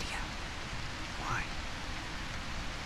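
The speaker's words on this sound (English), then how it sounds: "Rain." Rain falls steadily in A Quiet Place: The Road Ahead, a constant hissing wash of drops filling the scene at a moderate, even level.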